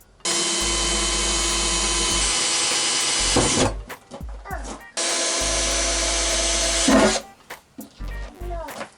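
A power drill bores holes in the fender of a Jeep Cherokee XJ in two loud, sustained whining bursts, each ending with grinding and rattling, and faint voices appear between them.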